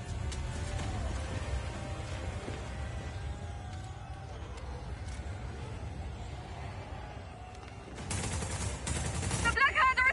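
Booming cannon fire in the video game Just Cause 4, a steady rumbling barrage with bursts of sharper blasts near the end.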